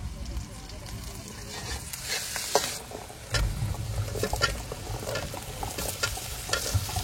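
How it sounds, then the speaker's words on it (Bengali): Potato, pointed gourd and eggplant fry in oil at an outdoor riverside cooking spot, a continuous close sizzle with scraping stirs and crackles that swell partway through. "ঝাল বাদে খালি ভাজি"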